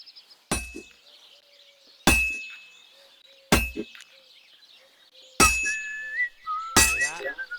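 A blacksmith's hammer striking heated metal on an anvil in the game Kingdom Come: Deliverance II, five sharp ringing clangs spaced about one and a half seconds apart, each leaving a bright sustained metallic ring over a quiet background.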